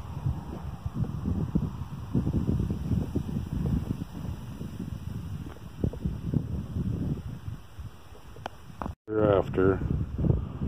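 Wind buffets a microphone outdoors in long rumbling gusts, loud and close, with a brief dropout near the end followed by a voice.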